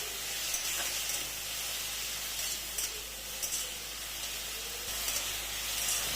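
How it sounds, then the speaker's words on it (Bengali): Yellow bell peppers, added after red ones, frying in a wok with a steady loud broadband sizzle and hiss that lasts throughout, with faint stirring clicks and no voices. "দিয়ে দিলাম হলুদ শিমলা মরিচ। এখন সবগুলো ভালো মতন ভেজে নেব।"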